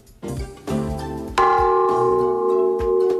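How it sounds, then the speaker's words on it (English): Dinner bell made from a roughly five-foot propane tank with its bottom cut out is struck several times, each hit ringing out with a bright metallic clang and long sustaining hum, the strikes overlapping as the tone builds. "We cut the bottom out, which has become our dinner bell."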